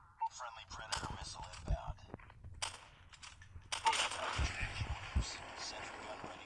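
Sniper rifle shots ring out in a Call of Duty match, a few sharp cracks and bursts scattered through busy game sound, with faint talk mixed in.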